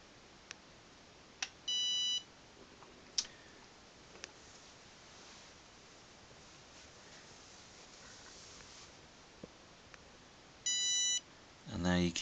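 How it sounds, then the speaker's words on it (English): A battery cell low-voltage alarm in a solar power system gives short electronic beeps, a pair of bursts near the start and another pair near the end, over a constant faint hiss. "cell alarm will start up."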